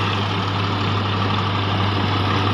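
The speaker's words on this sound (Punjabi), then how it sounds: "ਤੁਹਾਨੂੰ ਪਰਫਾਰਮੈਂਸ ਦਿਖਾਉਣੇ ਆਗੇ ਚੱਲਦੇ ਟਰੈਕਟਰ ਦੀ" A John Deere 5405 CRDi tractor's heavy diesel engine idles steadily with a deep, constant rumble and hum, loud and close, with no voices.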